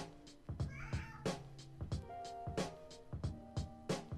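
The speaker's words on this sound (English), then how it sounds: "The cat's complaining. Let me open the door for him." A cat meows repeatedly to be let out a door, a run of drawn-out, fairly loud calls at an irregular pace in an indoor room, with no talking.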